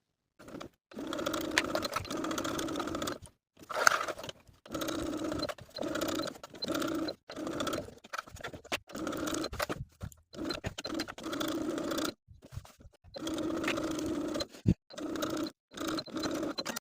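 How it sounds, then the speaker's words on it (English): A sewing machine stitches the center back seam of a ruffle-sleeved top at a 5/8 inch allowance, running in many short, stop-start bursts with brief pauses for pivoting. "sew up the center back with a 5/8 inch seam allowance, and then pivot around the neckline"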